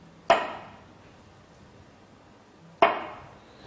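Two separate sharp knocks of a knife blade chopping through asparagus onto a board, each a crisp close thud with a short decay and a pause of about two and a half seconds between them.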